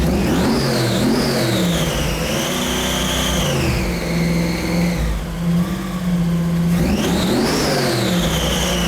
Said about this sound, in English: the sound of a supercharged V8